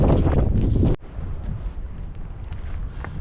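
Loud wind buffets the microphone in a roaring gust on an empty route in Spain, then cuts to a softer, steady rush of wind for the rest.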